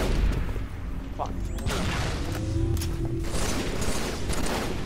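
Gunfire in a video game rattles in dense bursts over a steady roar of noise while a player speaks briefly.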